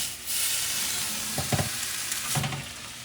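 Korean-style kalbi beef ribs frying in a pan, a loud, constant close-up sizzle with occasional clattering knocks and scrapes as the pieces are moved, and no talking.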